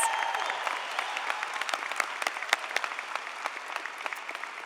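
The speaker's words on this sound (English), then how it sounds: "Please help me by giving a big round of applause to Mariachi Los Mensajeros" An audience at a college commencement ceremony applauds a mariachi band, with many hands clapping steadily and evenly at a moderate distance throughout the clip.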